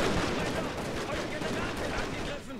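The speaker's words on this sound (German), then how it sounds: "Die Kanonen feuern immer noch fleißig." Cannons firing in a battle in the strategy game Shogun 2: Total War, a dense, continuous rumble of booming shots and battle noise that fills the clip at steady loudness.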